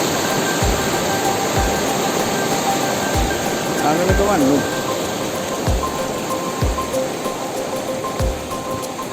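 Fast-flowing stream water at Panieli Poru rushes in a loud, continuous close roar, with a voice speaking briefly over it midway.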